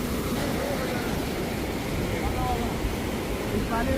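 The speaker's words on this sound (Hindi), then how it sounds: "ये देखिए थोड़ा सा वाटरफॉल है बट फ्लो बहुत तेज़ है" A small, fast-flowing waterfall on a rocky mountain pilgrimage trek to Shrikhand Kailash roars steadily and close by, a dense unbroken rush of water filling the whole stretch.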